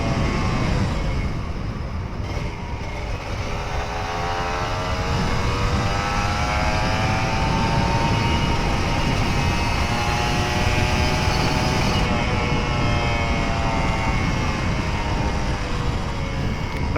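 A Kawasaki Ninja RR 150 two-stroke motorcycle engine runs steadily and loudly for the whole stretch, its pitch sweeping up and down slightly as it revs, with a buzzy, raspy drone and no talking.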